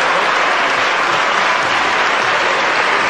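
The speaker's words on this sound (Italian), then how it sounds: "Vi ringrazio per un applauso non gradito" Senators in the Italian Senate chamber give sustained, loud applause, a thick, unbroken roar of many hands clapping at constant intensity from start to finish.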